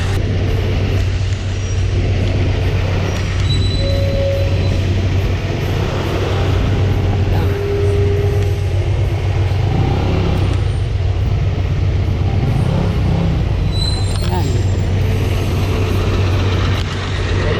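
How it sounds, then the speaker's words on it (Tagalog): Dense, steady din of heavy road traffic in Caloocan City, with cars, buses and trucks crowding a narrow road nearby, a constant low rumble with occasional air-brake hisses and engine swells throughout. "heavy traffic din pala dito"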